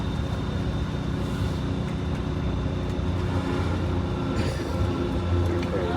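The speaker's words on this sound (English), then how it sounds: "You're going to definitely hear an exhaust note that sounds different to you when you get up by these buildings up here." An MCI bus with an upgraded Detroit Diesel 6V71 engine climbs a hill near buildings, its exhaust a steady close low rumble that barely changes throughout.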